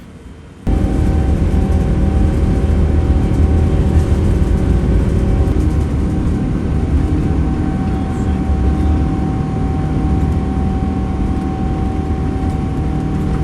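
A steady, loud low roar of jet engines and airflow fills an old British Airways plane's cabin after takeoff, constant throughout with a faint hum on top and no voices.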